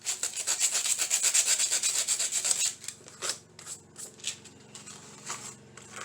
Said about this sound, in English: So once we get this sanded off, we'll start with decorating it.